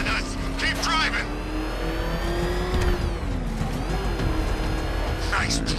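A vehicle driven in the video game Batman Arkham Knight, with a steady engine drone that rises and dips in pitch, plus mechanical game noise running throughout.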